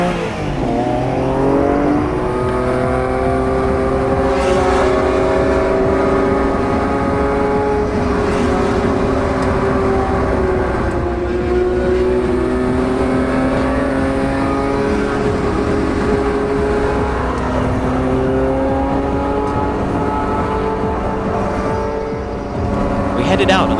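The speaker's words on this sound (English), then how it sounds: "We headed out on the Wangan Expressway and played a little game of tag with 11 highly modified NSXs." Eleven heavily modified Honda NSX sports cars race at high speed on Tokyo's Wangan Expressway, engines revving steadily loud and close for the whole stretch, with rising and falling harmonic engine whine and a few shifts.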